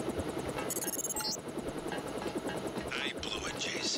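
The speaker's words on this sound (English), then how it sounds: "Oh, we're in the secret helicopter base." A helicopter rotor in the game Deus Ex, set in a secret helicopter base, throbs steadily and close, with voices talking over it and brief electronic beeps.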